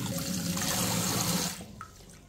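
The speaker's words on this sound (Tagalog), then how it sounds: "Huhugasan po natin 3 hanggang 4 na beses hanggang sa malinis at hanggang sa luminaw yung tubig." Water swishing over rice grains during rinsing, a close continuous splashing that cuts off abruptly, followed by a faint drip or clink in near silence.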